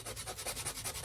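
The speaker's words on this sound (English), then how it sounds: "sand it a little bit, and then you can feel that it's gone" Close, rhythmic back-and-forth sanding of a small wooden model ship piece with a hand sander, about ten steady scratchy strokes in quick succession and no voices.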